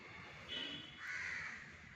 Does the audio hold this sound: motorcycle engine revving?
no